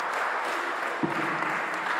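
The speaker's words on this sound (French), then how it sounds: "je tiens véritablement à ce qu'on applaudisse encore pour ce qui est en train d'être" A seated audience at the opening day of a French youth event claps steadily in a dense wash that holds through the whole stretch, with one brief knock near the middle.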